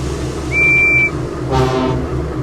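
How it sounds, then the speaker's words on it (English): Two short train horn toots sound one after another from Thomas and Friends engines in a video game, the first a clear tone, the second brighter and buzzier, over a low engine hum. "So we're gonna honk at Diesel."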